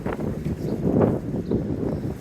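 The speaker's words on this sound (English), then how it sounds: "It's a little bit windy." Steady wind buffeting a microphone outdoors on a Brooklyn street, a low rumbling roar with gusty swells that stays close and constant throughout.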